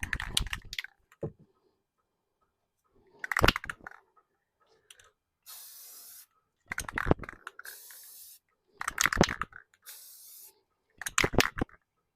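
Spray can applying black paint to a Mathews LowPro quiver stabilizer, three short bursts of close hissing spray, interspersed with handling clicks and rattles between passes.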